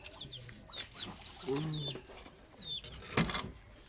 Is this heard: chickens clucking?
yes